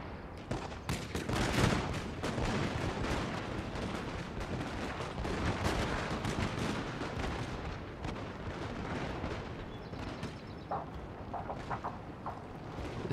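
Musket or gun volleys from a unit in Total War: Shogun 2, a rolling crackle of many overlapping shots with booming, artillery-like thumps, steady and dense throughout.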